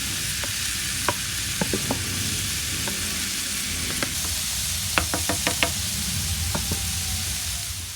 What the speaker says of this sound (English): Now it's time to start frying our corn.